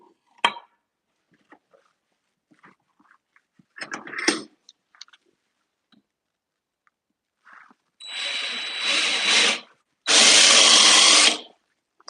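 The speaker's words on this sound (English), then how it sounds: "drill it on both ends" A power drill bores dowel holes into both ends of a piece for a craft project, running in two bursts of a few seconds each, loud and near, after some scattered handling clicks and knocks.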